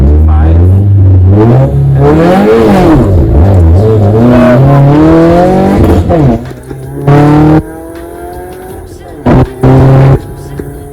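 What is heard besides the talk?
Subaru engine revving in first gear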